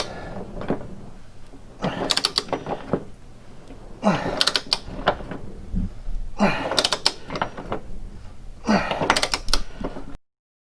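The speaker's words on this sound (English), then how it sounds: "you have to tighten it to 85 foot-pounds of torque" A ratchet wrench tightens a bolt to 85 foot-pounds of torque during a vehicle parts install. It gives four separate bursts of close, sharp mechanical clicking, each about a second long, with quieter pauses between.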